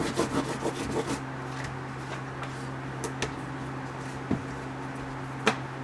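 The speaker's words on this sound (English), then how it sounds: "And you want to burnish that down really good." Paper for a mini album booklet being burnished down, soft close rubbing strokes, busier at the start, then quieter scraping with a few sharp taps, low in level.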